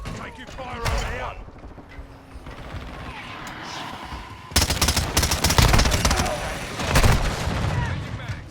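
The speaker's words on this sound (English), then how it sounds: "Taking fire over here!" Gunfire in a Call of Duty match: bursts of automatic shots crack close and loud in the second half, after a quieter stretch of battle noise with in-game voices calling out.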